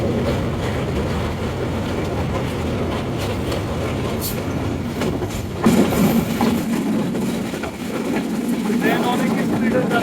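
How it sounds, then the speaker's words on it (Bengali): A train rolls along at high speed near the western side of the Jamuna Bridge, heard from on board as a steady loud rumble and rattle of the carriages. Voices sit under the noise. "ট্রেন অনেক স্পিডে যাচ্ছে"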